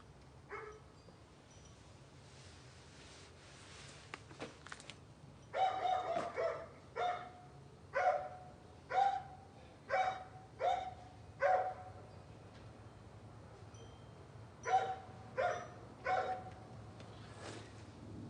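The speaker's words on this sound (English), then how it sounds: "They get to barking over there pretty good." A neighbor's dog barks repeatedly from a distance, a steady run of a dozen or so sharp barks in an uneven rhythm, moderately loud over faint background noise.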